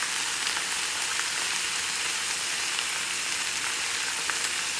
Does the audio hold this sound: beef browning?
yes